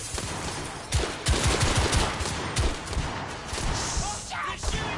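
Loud, rapid bursts of gunfire and heavy thuds fill a firefight in the PS4 video game The Order: 1886, with shots overlapping continuously as a player's voice talks over the noise.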